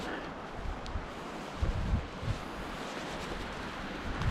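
Gusty wind at a mountain river while fly fishing, a broad rumbling roar buffeting the microphone with several stronger low gusts over the constant rush.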